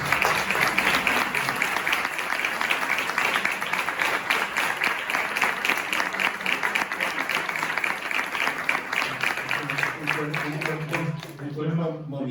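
Audience applause filling a hall after a talk on Santa Teresa de Jesús, dense steady clapping at moderate distance that carries on for several seconds before thinning and fading out.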